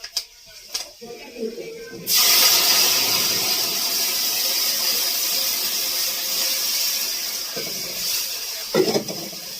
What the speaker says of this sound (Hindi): और मेथी में छोंकूंगी मैं कड़ी